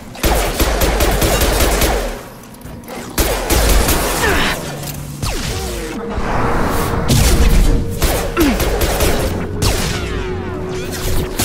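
Sustained automatic gunfire from a Mass Effect 2 battle, dense rapid bursts of shots with whooshes and impacts, loud and continuous throughout with brief lulls.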